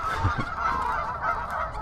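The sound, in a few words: geese honking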